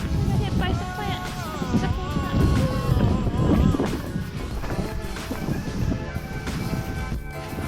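Outdoor wind buffeting a microphone in Conwy, Wales, a continuous loud low rumble and gusting roar that carries on throughout, with faint voices at moments.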